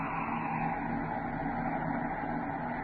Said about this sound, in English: Braking rockets, 1/4.